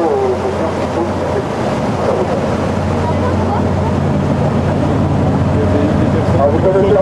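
A boat engine drones near the Pont de Normandie, a loud continuous low hum mixed with water and wind rush, while someone speaks over it throughout.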